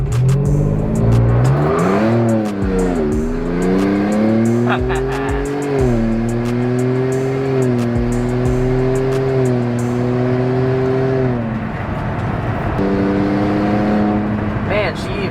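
2022 Ford Bronco with a Whipple supercharger launching from a stop in a burnout, a loud close engine roar climbing through revs with supercharger whine and tire noise, as people talk over it.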